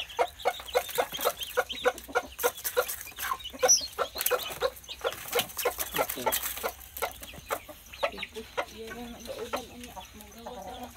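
A brooding hen gives a steady run of close, rhythmic clucks and throaty calls that continue throughout, getting softer near the end.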